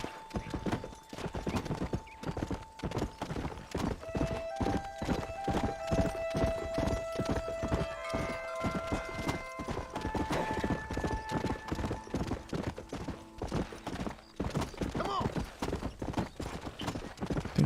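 Horse galloping in the Red Dead Redemption video game: a fast, continuous rhythm of loud, close hoofbeats running throughout, with game music tones and faint whinnies mixed in.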